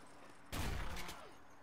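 A burst of gunfire sounds in the tactical shooter game Tactical Intervention. The brief, fairly faint volley of rapid shots lasts about half a second against a quiet background.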